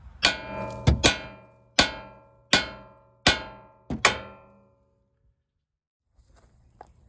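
Sharp metallic bangs on a suspension part of a third-generation Toyota Tacoma during a lift install, six or seven strikes spaced about a second apart, each ringing briefly, then quiet shop sounds.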